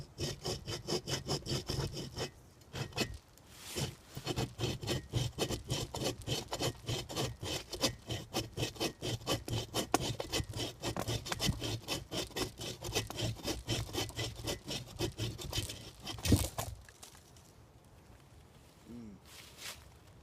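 A hand saw cuts through wood outdoors in the woods, with rapid, rhythmic rasping back-and-forth strokes; a brief pause comes early, then steady sawing fills most of the stretch before stopping near the end.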